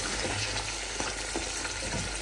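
Pigeon meat sautéing in spices in a pan without added water, a steady close sizzle and frying hiss with faint stirring scrapes throughout.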